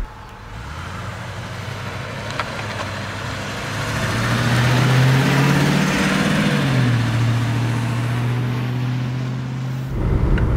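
A 1970 Mercedes 280 SE 3.5 Cabriolet engine idles and then revs up into a steady, rising drone before settling back, loud and close with no talking.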